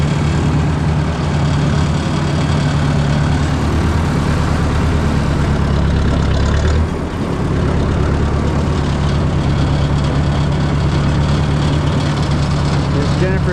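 A 6-volt Ford 601 series tractor drives through snow on a freezing day, its engine a loud, steady low rumble that carries on without a break through the whole stretch, with only a brief dip in the middle.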